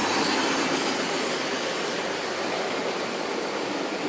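Model railway Class 40 diesel locomotive running at 40% power at express pace, a steady, loud broadband rushing roar that holds evenly throughout without breaks.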